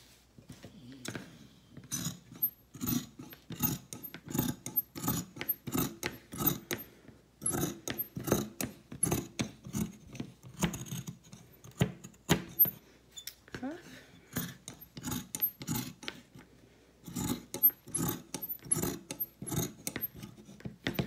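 Scissors cutting old t-shirt fabric into strips for yarn, a series of close, rasping snips and rubs in irregular bursts, with a voice speaking between some of the cuts.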